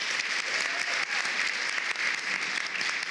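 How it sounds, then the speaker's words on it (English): Steady audience applause greets fashion designer and judge Mondo Guerra at a Project Runway event, a dense continuous wash of many hands clapping throughout with no speech over it. "Can everyone give Mondo a round of applause?"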